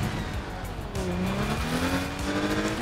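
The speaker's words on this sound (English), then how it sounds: "What is with these engines?" Engines of a player-built flying vehicle in the Trailmakers video game roar loudly and continuously, their whining pitch climbing steadily as they rev up.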